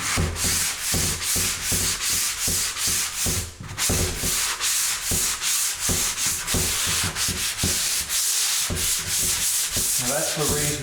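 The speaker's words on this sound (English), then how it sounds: "it sands really easy, it sands very nice" Sandpaper rubbing back and forth over undercoat on a grooved Hume door makes loud, close, rhythmic scratchy strokes. The strokes pause briefly partway through and then carry on steadily. No one speaks.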